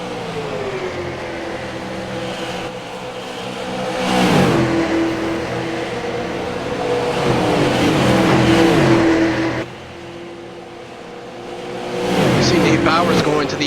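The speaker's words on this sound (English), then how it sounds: "Lots of racing to be had here as Nate Bowers, you see the sparks coming off the car there hitting that wall in turn 4 here at Darlington Raceway" Stock race cars lap Darlington Raceway in a racing video game, with whining engines revving and passing, their pitch sweeping up and down, and brief tire squeal, all under steady commentary talk.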